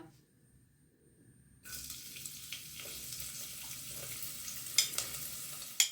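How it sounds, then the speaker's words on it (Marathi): Onion dropped into hot oil in a pan for egg bhurji starts a sudden loud sizzle after a quiet start, then a steady hiss with a few sharp crackles and pops, no talking. "तेल आपलं गरम झालेलं आहे तर ह्याच्यात आपण आता कांदा टाकून घेऊया"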